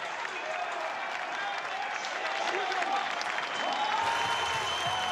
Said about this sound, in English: Listen to the crowd there.